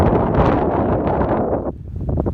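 Strong wind buffets the microphone outdoors near steaming sulfur vents in Iceland, loud rumbling gusts that ease off toward the end.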